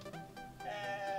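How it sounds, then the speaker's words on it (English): A single short sheep bleat from a video game, with a wavering, slightly electronic tone, heard alone and fairly faint. "Sheep!"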